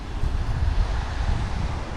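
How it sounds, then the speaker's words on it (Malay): Strong sea wind blows across an east-coast beach campsite at Cherating, a loud steady rumble buffeting the microphone with surf noise beneath it and no voices. "angin laut memang kuat"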